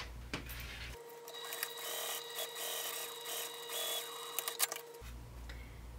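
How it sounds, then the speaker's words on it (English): A sewing machine top stitches along the back seam of a small crossbody bag, a quiet steady whirring run of about four seconds with light clicks, between short pauses and no talk. "we're going to top stitch along that back middle an eighth of an inch away from the seam we just sewed."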